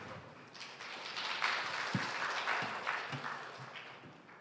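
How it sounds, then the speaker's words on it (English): An audience applauds in a hall at an AI symposium as a professor is welcomed to give a talk, a steady wash of many hands clapping at moderate level throughout, with no voices. "Please welcome Professor Mengye Ren with a big round of applause."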